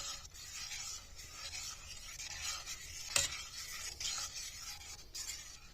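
A fork scrapes and stirs salted butter caramel steadily against the bottom of a saucepan in a camper van, with a soft sizzle and one sharper metallic clink midway.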